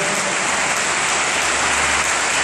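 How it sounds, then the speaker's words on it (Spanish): Sustained applause from an audience after a tango exhibition performance by a dancing couple, dense clapping that fills the whole stretch evenly without any voices. "El aplauso para ellos."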